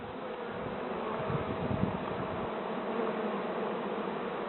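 A dense swarm of honey bees buzzes continuously at moderate volume, a steady humming drone with no voices.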